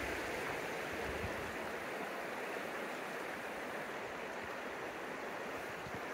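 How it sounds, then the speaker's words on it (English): The Maligne River in Jasper National Park rushes along beside a roadside lunch stop, a continuous full-bodied roar of flowing water with a steady hiss, close by and unbroken, with no voices. "we're gonna sit right here and enjoy the sounds of the water"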